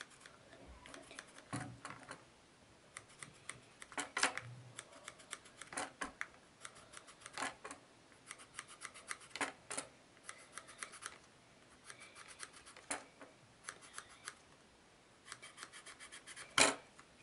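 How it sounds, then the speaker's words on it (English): Scissors snip through folded paper for a handmade snowflake, producing quiet, irregular clusters of crisp cuts and rustles close by, separated by short pauses. "Now we have to cut out the centimeters."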